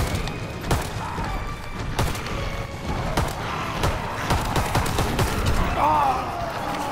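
Gunfire in a World War II video game, with repeated sharp shots and thumps over a dense, constant battle din, while a player talks over the action.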